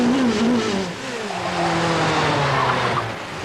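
Race car climbing a closed public-road hill course, its engine revving toward about 11,000 RPM with sliding pitch changes and tire noise, loud and close with no talk.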